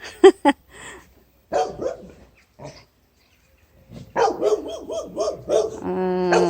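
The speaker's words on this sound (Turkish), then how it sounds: "eltimin köpeğine bakın köpeğine." A dog barks in short sharp bursts near at hand in a cherry orchard, with a longer run of yelping barks toward the end, separated by brief quiet gaps.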